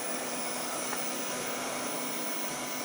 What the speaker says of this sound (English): that's all the noise it makes, man. That's what I like about these electric buses.